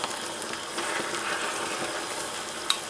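Beef strips fry and crackle in hot oil while a spatula stirs them, making a steady bright sizzle with faint scraping and a small sharp clink near the end.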